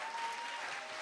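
An audience applauds a Norwegian band at a Belgian music final, a steady, dense wash of clapping that fills the whole brief moment without a break.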